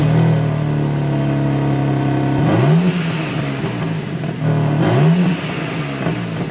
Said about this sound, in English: I would be so disappointed if I bought a BMW M3 brand new and it sounded like this